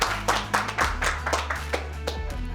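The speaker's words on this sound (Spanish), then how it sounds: "Por favor, dense un aplauso, ¿de acuerdo?" A small group claps at a Concrete Combat team construction competition: a handful of distinct, uneven claps that are fairly close, over a steady low hum, with no talk.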